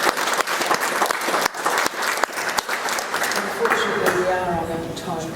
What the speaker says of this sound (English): So if you just give a round of applause to John.